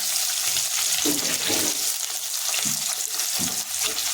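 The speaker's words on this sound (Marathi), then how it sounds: "आता आपण हा जो ओला कांदा आहे तो आपण ह्याच्यामध्ये घालून देऊया" Wet chopped onion dropped into already fried onion in a hot pan for vegetable masala rice, producing a loud, dense, hissing sizzle with a few stirring scrapes, steady throughout and without talking.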